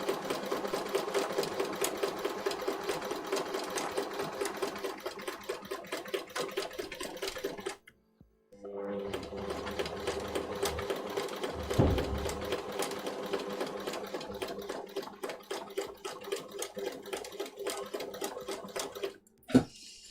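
Sewing machine stitching a buttonhole on a child's jacket, running in steady rapid bursts of needle strokes, pausing briefly around the middle, then resuming with a sharp click near the end, close and alone with no talk.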